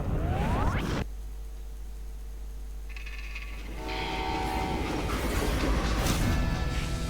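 A train in the video game Call of Juarez: Gunslinger rumbles steadily with a low, heavy drone while long horn tones sound over it and a harsh metallic clatter builds toward the end.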